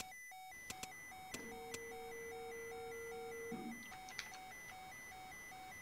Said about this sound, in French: Je vais couper l'alarme.